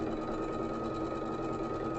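A quilting sewing machine stitches at a fast, even pace, its rapid mechanical hum holding steady from start to finish with no voices over it.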